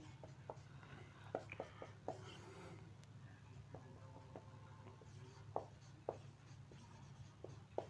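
Chalk or a marker writes on a board in a classroom: quiet scratchy strokes and taps in irregular bursts over low room hum, with faint murmuring in the background.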